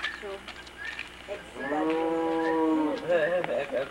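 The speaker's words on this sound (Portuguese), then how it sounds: "É o boi?" A loud, drawn-out moo from an ox on a farm, low and harmonic, lasting over a second, with a second shorter bellow following and faint background noise.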